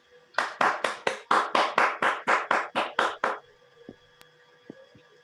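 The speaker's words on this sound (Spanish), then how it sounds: "Un aplauso para el maestro Mohamed Chales." A single pair of hands claps about twelve times in an even rhythm, crisp and close, applauding a karate master at a Goyu-ryu anniversary event, followed by a few faint taps.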